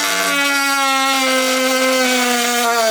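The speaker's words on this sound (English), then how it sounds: "I'm gonna grab the Dremel and trim a good section out of there" A Dremel rotary tool trims a section off a car's intercooler, giving a steady high-pitched whine. It holds a constant, loud pitch throughout and is heard alone without talk.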